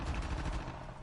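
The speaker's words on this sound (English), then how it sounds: "there's like heavy gunfire right now." Heavy gunfire bursting in a dense, continuous rattle of rapid shots, loud and close, with no voices over it.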